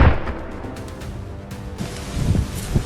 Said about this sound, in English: Moments later, gunfire echoed from all directions